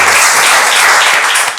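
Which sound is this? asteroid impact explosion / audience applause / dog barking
audience applause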